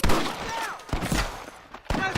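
Gunfire in the Western video game Red Dead Redemption, loud bursts of shots and thuds clustered at the start and again near the end, mixed with game noise and some talk.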